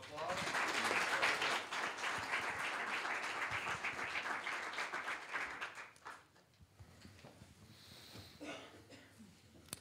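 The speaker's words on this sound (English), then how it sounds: "let's give them a round of applause" An audience at a student idea-pitch event gives a round of applause that is loud and dense for about six seconds, then thins to scattered claps while faint voices start up.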